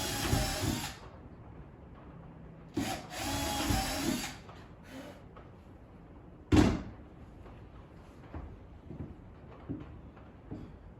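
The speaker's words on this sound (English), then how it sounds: "So here I'm making some pilot holes for those lag screws." A power drill boring pilot holes for 6-inch lag screws into a wooden stand leg and subfloor, in two loud sustained bursts near the start, then a sharp knock and quieter handling noises.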